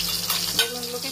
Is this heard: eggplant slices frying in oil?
yes